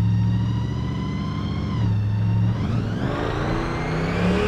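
A 1956 Ford pickup truck's engine revs on the accelerator, close and loud, its tone climbing and dipping through two throttle blips over a steady idle, with no talking.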